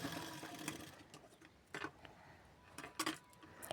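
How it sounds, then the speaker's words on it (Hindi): A sewing machine stitches the lining into a blouse in short, quiet bursts of rapid clicking, separated by pauses. "फिर मैंने अस्तर को उसमें अटैच करने के लिए एक सिलाई लगा रही हूँ।"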